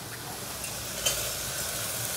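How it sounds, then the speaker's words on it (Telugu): Chopped onion and cumin seeds sizzle steadily in a hot pan, a close, even frying hiss with a faint stir click partway through. "మంచిగా ఉల్లిగడ్డ వేగింది, ఇంకొంచెం వేగాలి."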